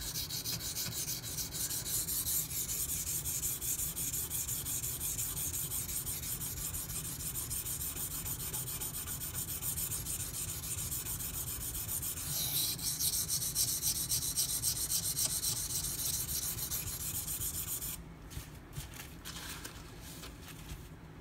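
A knife blade is rubbed in long continuous strokes across a Gritomatic silicon carbide sharpening stone, a close, steady rasping hiss that shifts in tone briefly midway and drops near the end.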